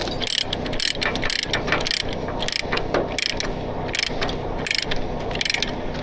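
A ratchet load binder cranks tight on a trailer hitch, a rapid run of close, loud metallic clicks in repeated bursts with brief pauses between strokes.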